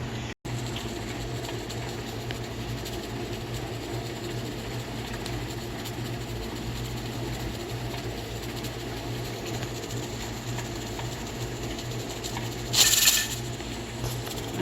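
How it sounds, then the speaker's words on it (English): A home dishwasher runs steadily in the background, a low continuous wash and hum with watery churning throughout, and a brief louder hiss near the end. "I'm sorry about the noise in the background, by the way. That's my dishwasher."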